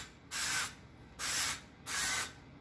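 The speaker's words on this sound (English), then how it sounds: "I'm just using an avocado oil spray, so this way it doesn't stick." Three short hissing bursts of avocado oil cooking spray, evenly spaced, close and clear with quiet pauses between them.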